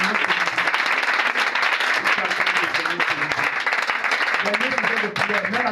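A congregation at an evening prayer meeting claps and applauds the Lord, a steady dense round of applause throughout, close and loud, with voices mixed in.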